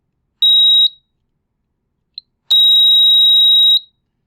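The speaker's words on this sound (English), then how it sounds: "You hear that beeping, that means that my metal ring is conducting electricity." Two steady electronic beeps from a conductivity meter touching a metal ring, one short and one longer, with a tiny blip between them; loud, close and clear against silence.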